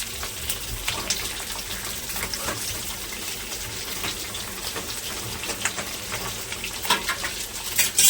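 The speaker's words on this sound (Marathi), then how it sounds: "आता टाकलेली मिरची याची दोन वेळा हलवून" Capsicum frying in a pan, a loud continuous sizzle with spatula strokes stirring through it, close and steady throughout.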